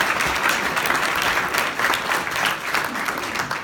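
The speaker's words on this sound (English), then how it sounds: "Then they rolled off stage as the audience applauded their wonderful performance." Audience applause after a stage dance performance, a continuous crowd clapping with gently swelling and dipping intensity, heard alone for several seconds.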